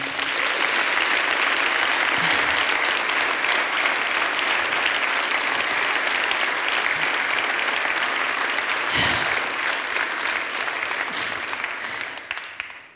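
An audience at the Tatra Banka Foundation art award ceremony applauding, steady dense clapping from a large crowd, loud and sustained before fading out at the end.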